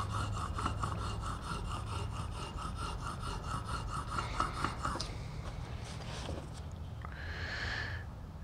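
A Lie-Nielsen rabbet block plane blade is rubbed back and forth on a 1000 grit sharpening stone, giving a steady rhythmic rasping scrape for about five seconds before the strokes stop and softer handling and rustling noises follow.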